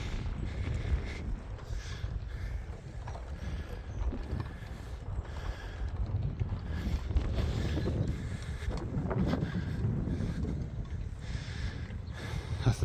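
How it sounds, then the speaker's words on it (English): Strong wind blowing across an allotment plot buffets the microphone in a constant rough roar, with gusts swelling and easing alongside faint creaking. "I know it's very windy, so you might not be able to hear me."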